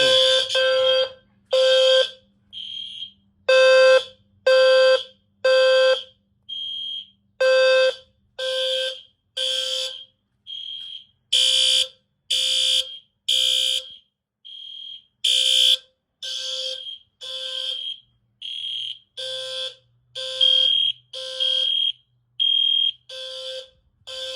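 A loud fire alarm set off by an old pull station blares in repeated harsh bursts with brief gaps, a steady pulsing pattern of piercing horn tones continuing throughout.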